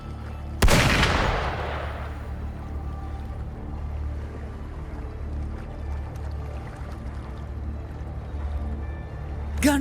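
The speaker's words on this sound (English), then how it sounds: "Gunfire! We've got intruders." A single sharp, loud gunshot cracks out in the video game Wuthering Waves and rings off into a low ambient rumble, with a fainter crack right at the end.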